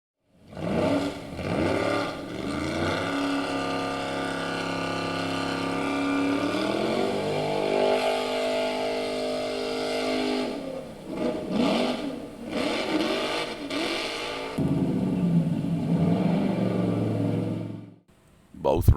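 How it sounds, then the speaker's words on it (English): Die-cast toy cars racing down a hilly track, a sustained rolling whir with shifting pitch and scraping as the cars run, close and steady before a brief drop near the end, with a voice commenting over it. "And now we have Duxie and the Mad Brit King, both driving some of the most unbelievably bad performing castings that are both consistently bad"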